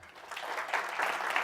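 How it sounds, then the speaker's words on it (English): Steady applause from an audience at a consumers and farmers gathering builds over a brief stretch, a dense wash of clapping with no voices over it. "hold your applause for a second."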